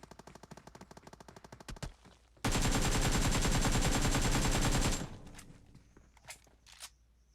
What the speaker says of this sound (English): The gun continues to fire.